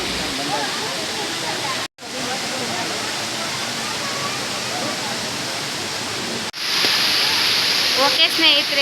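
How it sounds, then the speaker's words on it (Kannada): Abbey Falls in Madikeri swollen with monsoon rain, a loud, steady roar of falling water heard close up. Two brief dropouts break the sound, and it turns brighter and harsher near the end. "ಆದರೂ ಕೂಡ ಆ ಜಲಪಾತದ ಸೌಂಡು ಕೇಳಿಬಿಟ್ಟು"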